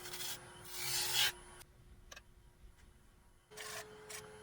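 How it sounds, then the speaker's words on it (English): Bowl gouge cutting into a poplar bowl on a lathe, producing bursts of rough rasping scrape with brief pauses and small ticks between cuts, close and moderately loud, no talking. "So hollowing out the bowl."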